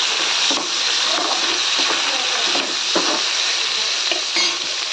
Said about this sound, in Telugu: టమోటా వేసి బాగా ఫ్రై చేసుకోవాలి.